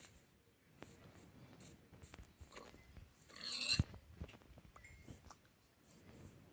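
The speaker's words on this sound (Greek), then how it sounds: "Και αυτό εδώ είναι ένα γουρούνι." A pig in the Minecraft video game gives a short grunting burst partway through, standing out briefly over a quiet, scattered background of faint clicks and game noise.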